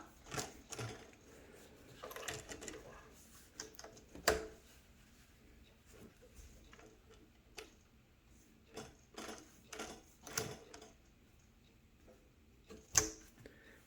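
A Mauzer Mannan 3-thread chain stitch machine makes quiet, irregular mechanical clicks and clacks as it is turned a few stitches at a time, sharper knocks standing out now and then against a soft background.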